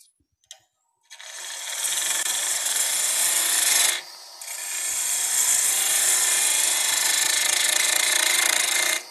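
Bowl gouge cutting wood on a spinning lathe, a loud close continuous rasping hiss that pauses briefly midway, then resumes steadily to the end, no talk.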